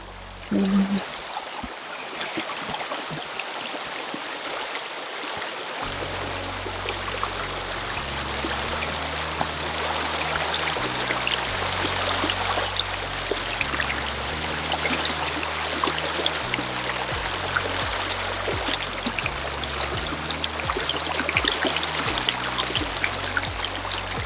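A flowing stream rushes and gurgles steadily up close while someone wades across it; the continuous watery wash fills the whole stretch with no talking.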